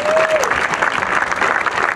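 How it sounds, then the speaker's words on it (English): Evening crowd at the Hollywood Bowl giving a big round of applause, dense sustained clapping from many hands, loud and continuous throughout. "I want you to give him a big round of applause."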